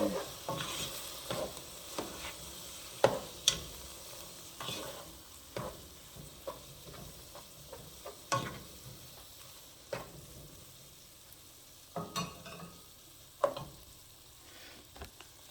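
Beef udon noodle stir-fry sizzles in a pan under repeated sharp scraping and stirring strokes, a steady frying hiss running beneath the irregular clatter of the utensil, close and moderately loud, with no talking.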